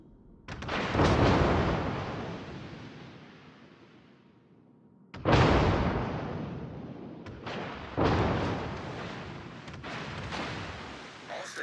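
Naval artillery fire in a destroyer combat game, four heavy booming shots with long rumbling decays, the first two spaced widely and the last two closer together, loud and alone.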